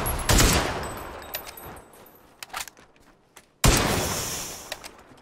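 Video game gunfire aimed at a vehicle's tires: a loud burst of rapid shots opens the clip, then a few scattered quieter pops, and a second loud burst sets in near the end, with no talk.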